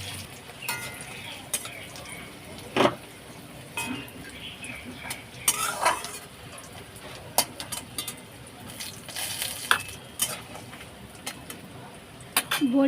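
Black gram lentil dumplings (bori) fry in mustard oil in a kadai with green chilli and whole cumin, giving a steady soft sizzle broken by frequent clinks and scrapes of a spoon stirring against the pan.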